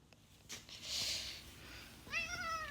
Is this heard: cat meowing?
yes